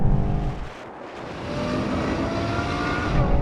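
A BMW M8, a Nissan GT-R and a Ferrari V12 race each other, their engines a loud continuous roar that dips briefly and then swells again.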